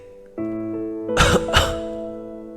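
Someone clears their throat twice in quick succession, a harsh, close sound over a steady background hum.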